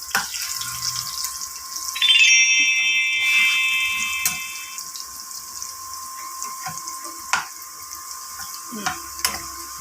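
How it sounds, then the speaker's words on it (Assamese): Potatoes frying in a pan for a masala chicken dish hiss with a steady, close sizzle, broken by light clatters and a brief high electronic beeping early on. "সেইটো কাৰণে মই আলুটো ফ্ৰাই কৰি আছোঁ।"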